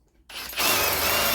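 A power drill whirs up and then bites into wood, its high grinding whine loud and close, steady once it gets going.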